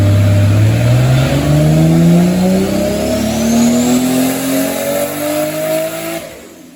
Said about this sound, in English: we're gonna start working through the RPMs again and see if we can get a full pull out of this one